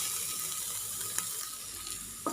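Sliced onions fry in a pan, giving a steady soft sizzle that carries on throughout, with a couple of brief clinks of a utensil stirring. No one speaks.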